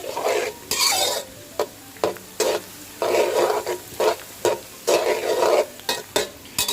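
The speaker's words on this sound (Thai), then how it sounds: "ใส่ปลาลงไปแล้วค่ะ ลืมบอกไป ให้ปรับระดับไฟลงนะคะ ใช้ไฟอ่อนลงค่ะ" Small fish fry in hot oil over low heat, with a constant sizzle broken by repeated loud scraping stirs of a spatula against the pan, about every half second to a second.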